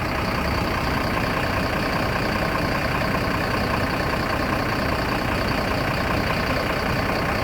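Sinar Jaya Jetbus 5 sleeper bus idling at a terminal, its engine giving a constant loud rumbling drone with an even hiss on top, unchanging for several seconds.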